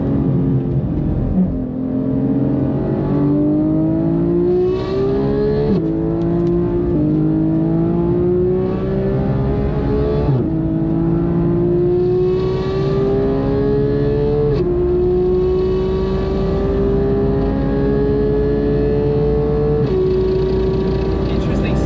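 Porsche 997 GT2 engine pulling hard through the gears, loud and close, with rising revs broken by several shift drops over a steady rumble.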